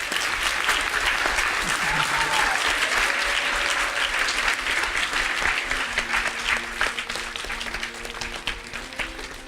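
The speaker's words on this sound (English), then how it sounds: "Let's have another round of applause for Stuart Sender." Audience at a gathering honoring an artist breaking into sustained, enthusiastic applause, thick steady clapping that fills the room for several seconds with faint voices and a few tonal sounds beneath it.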